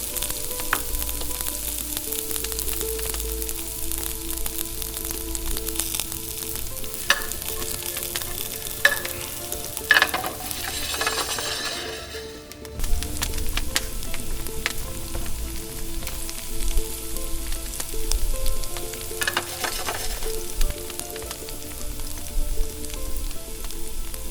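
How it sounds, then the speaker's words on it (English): Onions seasoned with salt and pepper sizzle steadily in a hot pan by a wood-fired oven, a continuous close frying hiss broken by occasional stirring clinks and scrapes, with no talking. "add the onions and season with salt and pepper and fry them until golden brown"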